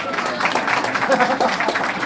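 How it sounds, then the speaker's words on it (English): An audience at a port procurement day event claps for a presenter, a short burst of dense, lively applause at close range with some crowd murmur mixed in. "Let's give her a hand clap."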